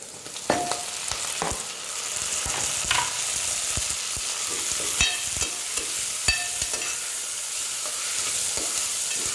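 Chopped tomato goes into onions already fried with chillies and curry leaves for a bottle gourd dal, hissing as a steady sizzle with scraping stirs and spoon clinks throughout, close and without talk.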